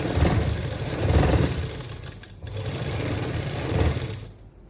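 A sewing machine stitches pintucks along a marked line on a garment, its motor whirring in steady runs with a brief pause in the middle, close and fairly loud with no talking.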